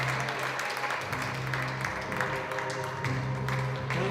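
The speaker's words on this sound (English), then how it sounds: "Keep cheering." An audience at a PSL squash match between Coolhurst and Chichester applauds and cheers as a player walks onto the court, a steady wash of clapping with raised voices throughout.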